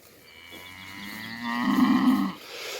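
A cow moos on a cattle farm during May, giving one long, rising, nasal low that grows louder in the middle and then stops, close by with no talk.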